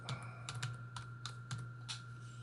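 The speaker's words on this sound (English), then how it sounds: "So I'm going to type that." Keys clack in short bursts on a computer keyboard while a place name goes into a map search box, with faint scattered keystrokes over a steady low hum and no talking.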